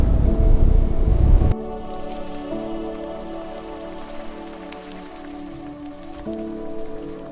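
Heavy rain pours down hard during a storm, a loud dense roar that cuts off abruptly, leaving a softer steady patter of drops with faint low rumbling underneath.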